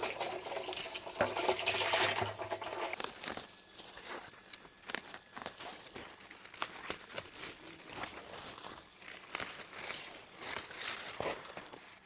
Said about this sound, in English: I'm going to start filling this bucket with water again.